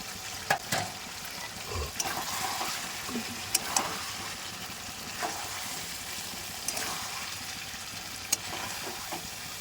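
Chicken curry sautéing in a pan with coriander leaves gives off a steady sizzle and frying crackle, with a few sharp scrapes and clinks of stirring scattered throughout at moderate, close range.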